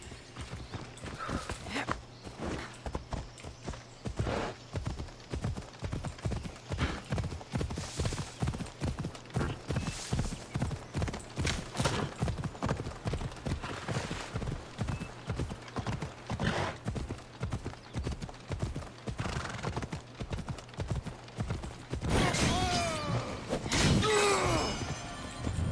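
Horse hooves gallop in steady, rapid clip-clop rhythm through most of Assassin's Creed Odyssey gameplay, loud and close, with a brief whinny near the end.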